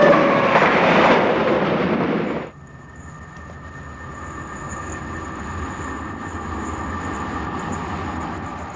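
A British Rail Class 91 high-speed electric train roars past loudly, then the noise drops abruptly to a steadier rumble with faint high whine as the train keeps running.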